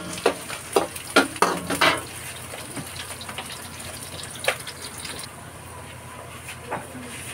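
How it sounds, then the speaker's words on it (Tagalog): Onion leaves sautéing in a pan for chicken and pork apritada, a soft sizzle under a few sharp clattering stirs near the start, then a quieter steady frying hiss. "igisahin natin. Isabay ko na rin yung dahon ng sibuyas. Dagdag aroma rin yan."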